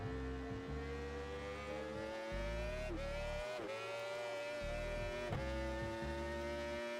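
Yamaha R1 motorcycle lapping a race track, its engine a steady droning whine that rises and falls with gear shifts and throttle changes, fairly faint and continuous throughout.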